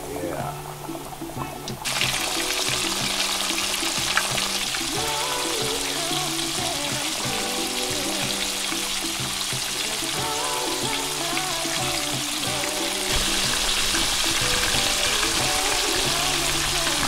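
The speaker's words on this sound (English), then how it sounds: "You want that good sizzle when it hits." Meal-coated fish sizzles steadily in hot grease, a loud, dense, continuous frying hiss that rises as the fish drop in and holds without pause, with a voice talking underneath.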